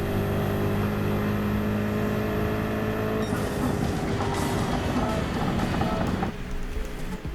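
A race car in Gran Turismo 7 on the Nürburgring Nordschleife holds a loud, steady engine whine as it accelerates, with the pitch shifting upward around the middle and a slight drop in intensity near the end. There is no talking.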